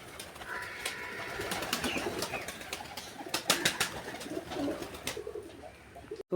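Pigeons in a coop coo in soft, repeated throaty phrases, with several birds overlapping close by and a few sharper clicks toward the end.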